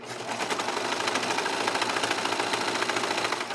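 A 4-thread serger stitching the edge of a hooded towel, running as a fast, continuous mechanical whir with a steady rapid rhythm, close and even from start to finish.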